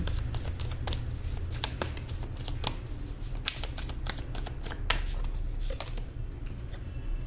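Tarot cards being shuffled and drawn from a deck, a steady run of soft papery riffles and flicks close by, with no talking.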